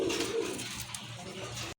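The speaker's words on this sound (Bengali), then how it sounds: "হিউজ সাইজের এক জোড়া কবুতর, রাজগোল্লা কবুতর" A pair of large Raj Golla pigeons gives a short, close, low cooing call, with a soft throaty burble over faint background noise.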